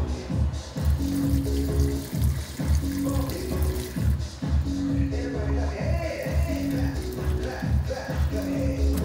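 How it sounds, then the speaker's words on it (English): Pasta cooking water pours and splashes steadily into a sink as it is strained, with a rhythmic gurgling pulse and metallic splatter throughout. "So what we're gonna do is just strain the water."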